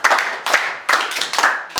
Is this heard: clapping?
yes